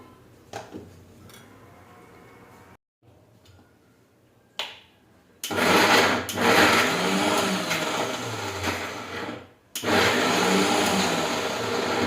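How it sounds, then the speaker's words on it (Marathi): A kitchen mixer grinder blends wood apple chutney with jaggery in its jar, a loud steady whir in two long bursts separated by a brief stop, after quieter handling noises at the start. "आता आपण हे मिक्सरच्या भांड्यामध्ये बारीक करून घेऊया"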